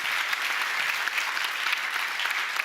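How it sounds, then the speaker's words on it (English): An audience at a founders' talk event breaks into dense, even applause, a steady wash of many hands clapping at once without pause. "huge applause to our MC of tonight"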